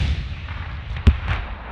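A single sharp cannon blast cracks out near the middle, followed by a softer echoing thud a moment later over a low rumbling background.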